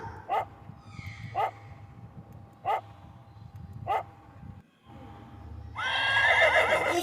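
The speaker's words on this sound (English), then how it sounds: "This is a horse." A cartoon horse gives a loud, bright whinny at the end, right after four evenly spaced single dog barks over a soft background hum.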